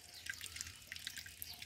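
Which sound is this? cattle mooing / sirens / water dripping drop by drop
water dripping drop by drop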